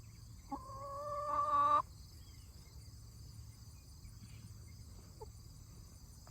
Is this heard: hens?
yes